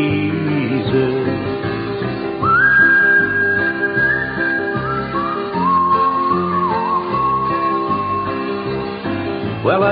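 Melodic whistling of the hymn "What a Friend We Have in Jesus" within a country song, a clear, sustained whistled line over the band's accompaniment.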